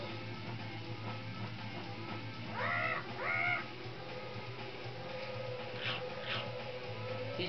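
A vulture in the Donkey Kong 64 video game caws in short harsh bursts, two close calls followed later by two fainter ones, over a steady droning game soundtrack.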